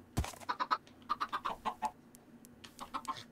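Chickens cluck in a quick run of short, bright calls from a Minecraft TerraFirmaCraft mod farm, fairly close and clear, pausing briefly before another burst near the end.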